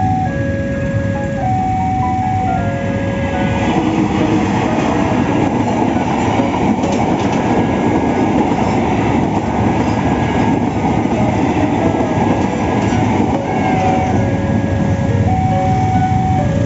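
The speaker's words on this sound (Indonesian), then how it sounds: "Kita menemukan satu palang pintu rel perlintasan kereta api" A toy train rolls past a toy railway level crossing, a constant loud mechanical rumble with repeated electronic beeping tones like a crossing signal, continuous and close.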